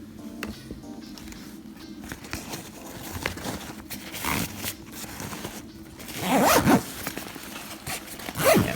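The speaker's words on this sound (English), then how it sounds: "I'll zip that up too." An Osprey Escapist 18 backpack zipper drawn closed along an internal compartment, close and clear, with shorter zips and fabric rustling building to a louder, longer zip run near the end.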